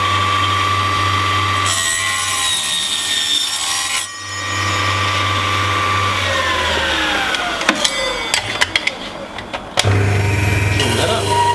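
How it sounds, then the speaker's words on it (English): A power sander works a small wooden part for a model ship, grinding steadily with a rough, rubbing tone, pausing briefly and then giving way to short, scattered contacts near the end. "You can see he's consistently using the sander."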